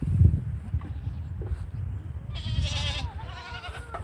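A goat bleats at close range on a farm, a couple of wavering cries standing out over steady outdoor rumble and handling noise, with no talk.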